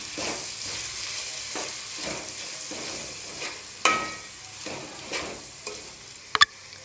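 Ivy gourd curry frying with masala paste, stirred steadily in the pan: a close, even sizzle with rhythmic scraping strokes and a couple of sharp metal knocks near the end.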